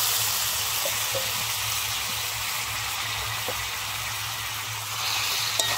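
Boiled young taro stolons fry in a spice paste with sugar and are stirred in the pan, giving a steady close hiss and sizzle with faint scattered stirring taps and no talking.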